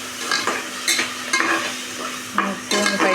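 Tomatoes sauté in a hot pan while a spoon stirs them, giving a steady sizzle broken by several scraping, clattering strokes at irregular intervals, close and fairly loud.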